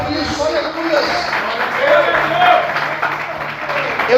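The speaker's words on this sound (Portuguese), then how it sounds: "Aplauda o Senhor por isso." A church congregation claps during a Portuguese-language worship service, a sustained ripple of applause in a reverberant hall with voices calling out over it.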